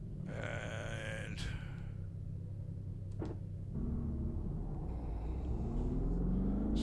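A race car engine in a racing video game roars and shifts on track, a low rumbling drone with brief revving spikes and a rising whine building toward the end.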